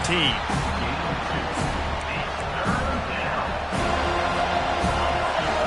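A loud football stadium crowd roars steadily throughout, a dense wall of noise with scattered shouts and a commentator's voice talking over it.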